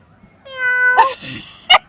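A person imitates a cat's meow: a short, rising-then-falling meow, loud and close, followed by brief voiced sounds.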